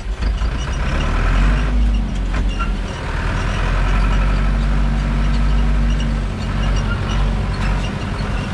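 A Zetor 7340 Turbo tractor's heavy diesel engine rumbles steadily throughout, loud and close, with a deep low drone and some mechanical rattling on top.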